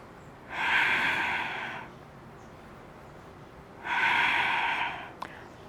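Two long, deep breaths during yoga exercise, each an airy rushing inhale or exhale lasting over a second, close and clear against a quiet room.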